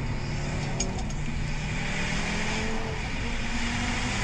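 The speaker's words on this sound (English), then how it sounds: "Oh, this guy's on the throttle." An Audi RS3 quattro accelerates hard on a public street during a race with a BMW M4, giving a steady droning engine roar with road noise, moderately loud and without voices.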